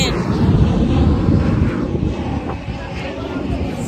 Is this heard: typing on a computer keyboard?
no